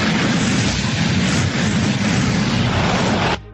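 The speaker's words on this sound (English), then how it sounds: "Give me that Gulch gun sound effect." A sci-fi blaze rifle blasts in one sustained, loud roaring burst of broadband noise that holds steady for over three seconds before cutting off abruptly, with no voices.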